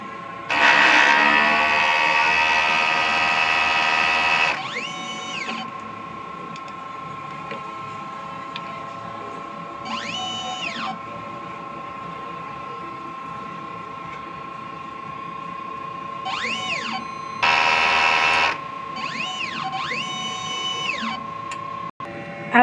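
A printer running a print head cleaning cycle gives off a steady mechanical hum with a sustained tone, broken by repeated rising and falling whirring bursts and louder stretches of motor noise, close and without speech.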